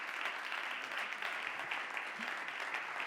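Audience applause at a chamber music award ceremony, welcoming the jury secretary to the stage; dense, steady clapping fills the hall throughout.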